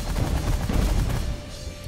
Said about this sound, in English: Minigun. Focused fire on you.